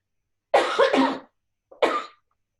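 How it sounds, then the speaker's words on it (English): Two harsh coughing bursts close up, a double cough followed by a single one after a short pause, in an otherwise quiet room. "this is not a COVID cough"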